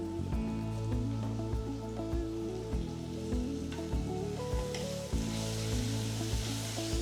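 Onions and garlic sautéing with spices in a pan for biryani, a continuous close sizzle with stirring clatter and scraping, steady throughout under a faint hum.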